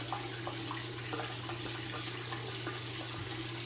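Tap water runs steadily over a shaving brush, soaking it with a close, continuous splashing hiss and no talk.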